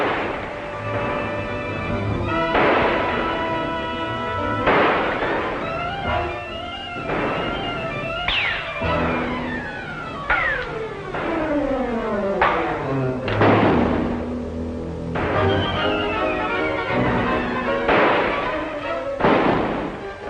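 Gunfire crackles in an action scene from a 1944 film serial set around a well being blown, with loud repeated shots and thuds layered over dramatic orchestral music throughout.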